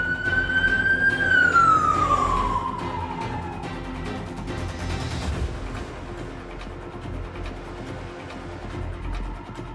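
Police car sirens wail during a high-speed pursuit in Fresno. A loud, near siren sweeps and then slides downward, giving way to lower rumbling vehicle noise and fainter sirens. No one speaks.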